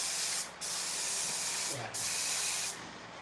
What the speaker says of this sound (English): Then you spray the pom-poms a little bit.